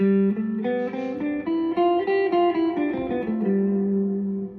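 A Mixolydian scale played note by note on an amplified instrument, a dozen or so notes stepping up and then back down at an even pace, heard alone.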